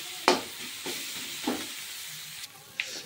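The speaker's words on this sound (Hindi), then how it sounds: "हम इसमें मैगी डाल चुके हैं पूरा चूर चूर करके, और 2 मिनट फ्राई करेंगे" Crushed Maggi noodles and vegetables frying in a kadhai: a soft, quiet sizzle marked by a handful of separate scraping stirs and spoon knocks at close range, spaced about every half second to a second.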